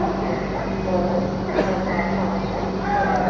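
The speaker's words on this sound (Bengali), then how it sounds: "ট্রেন ছেড়ে দিল হাওড়া স্টেশন থেকে" The Paharia Express pulls out of Howrah station with a low, continuous rumble and rattle of the rail cars, heard close behind a person talking throughout.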